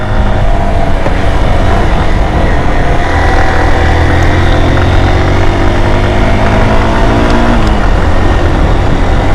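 Motorcycle engine pulling up a steep mountain road toward Keokradong in third gear, a loud, steady, close drone that holds throughout with a slight rise in pitch near the end.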